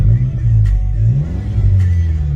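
Audi S3 with around 300 hp, its engine heard from inside the cabin as a loud, steady low rumble that rises and falls slightly with light revving, with no talking over it.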